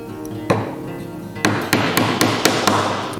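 A magnetic tack hammer drives upholstery tacks into a hardwood ottoman frame: one sharp metallic strike, a pause, then a quick run of about six close, evenly spaced taps, loud and near.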